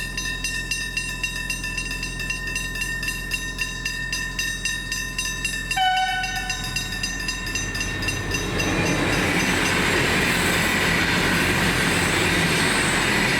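A V/Line VLocity train passes close by, its steady rumble and clatter with a brief squeal midway, then giving way to a louder, broadband rushing roar.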